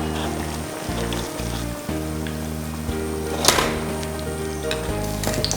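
Stuffed bread fries in a pan with a steady, close sizzle of hot oil, with occasional louder crackles and spatters.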